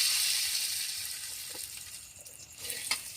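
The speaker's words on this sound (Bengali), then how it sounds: "আমার কিন্তু কড়াইটা গরম হয়ে গেছে। এখন দিয়ে দেবো তেল" Oil heats in a hot wok (kadai), giving a faint continuous high hiss with a couple of soft stirring touches near the end, no voices.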